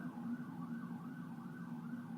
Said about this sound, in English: A siren went by.